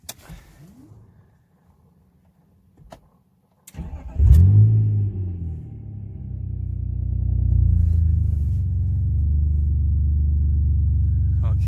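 A BMW E46 fitted with a new exhaust cranks and fires after a few clicks, barks loudly to life, then settles into a deep, rumbling idle that swells slightly and holds steady up close.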